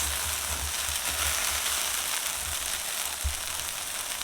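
Okra and potatoes fry in a pot on residual heat, giving an even, hissing sizzle with occasional soft low bumps from stirring.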